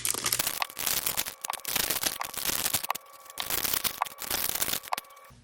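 Foil trading card fat pack wrappers being torn open one after another, crinkly rips and crackles in bursts with short pauses between, close up and no talking.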